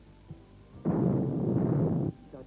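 A loud, sustained blast and rumble from an explosion wrecking a cable car in a TV drama, erupting suddenly, roaring for over a second, then cutting off.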